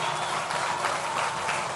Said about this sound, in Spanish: todos para que les demos un fuerte aplauso.